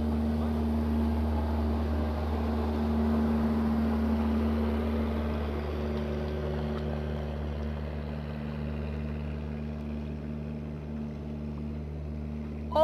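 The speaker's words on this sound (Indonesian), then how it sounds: "Ada perahu motor lagi lewat." A steady low engine drone with harmonic hum, like a motorboat running nearby, holding fairly constant with no talk.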